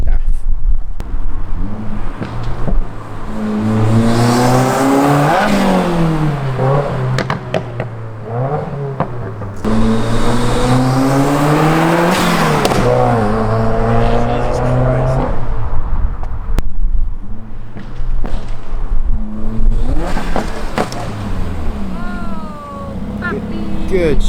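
A 2015+ Subaru WRX with a Namless axle-back muffler delete, loud raspy exhaust revving up and falling back in repeated sweeps, close by, with voices talking between pulls.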